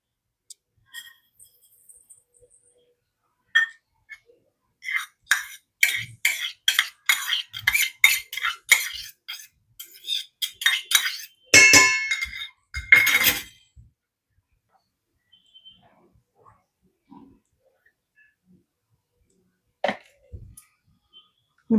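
A utensil clinks and scrapes against a bowl while dry yeast, sugar and crushed garlic are mixed for paratha dough, in rapid close taps across several seconds, preceded and followed by sparse isolated clicks.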